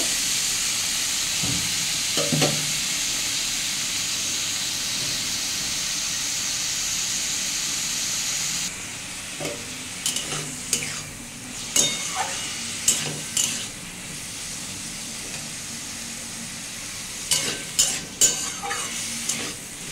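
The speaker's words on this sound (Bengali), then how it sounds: "আমি থোড়টা একটু ভালো করে একটু ভেজে নেব।" Banana blossom frying in a pan, with a steady loud sizzle throughout and a series of scraping stir strokes in the second half.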